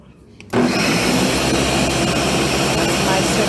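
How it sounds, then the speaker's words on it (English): A blender switches on abruptly and runs at a loud, steady, roaring whir while blending coconut to extract juice, continuing without pause to the end. "So I'm going to turn the blender on"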